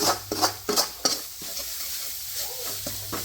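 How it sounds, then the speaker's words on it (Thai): Curry paste for an eel curry being stir-fried in a pan, with a soft sizzle under repeated scraping stir strokes that come in quick bursts, loudest early on and then settling into a quieter, steady fry. "ผัดไปเลยครับผัดเครื่องเป็นประมาณว่าแกงคั่วครับ"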